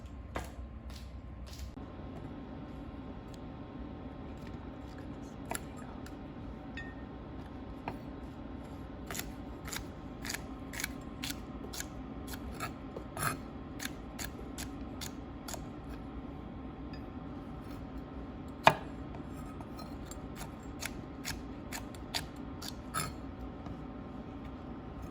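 A knife slices through small, tender okra pods on a cutting board, giving a steady run of sharp, crisp cuts with occasional louder chops, all heard close up over a low background hum.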